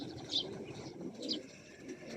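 Young racing pigeons coo in a loft in the morning, with a few soft, rounded calls spaced apart over a quiet background.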